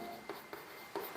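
Pen strokes scratch out notes during a Class 12 physics lesson, with three short, faint scribbles spaced across a quiet room tone.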